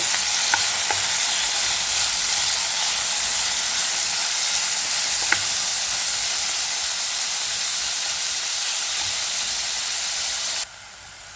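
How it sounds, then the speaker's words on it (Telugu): Tomatoes, green chillies and tamarind are stirred in a hot pan, giving a loud, even hiss of sizzling with a few faint clicks from the stirring. The sound is close and continuous, then drops suddenly near the end. There is no talking. "ఇప్పుడు ఇందులోకి రెండు రెమ్మల చింతపండు కూడా వేసుకుందాము వేసుకుని ఇలా కలుపుకుందామండి"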